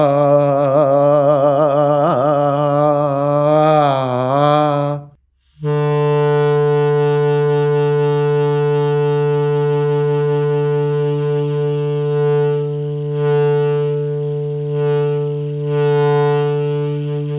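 Clarinet holding a single note whose tone wavers and fluctuates unsteadily, first with a wobbling pitch, then after a brief gap sustained more evenly, played close and clear without talk.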